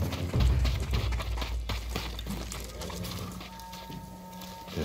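Horse hooves clip-clop near stables in the samurai video game Ghost of Tsushima, a short run of close, uneven thuds over a steady ambient bed with a low tonal hum.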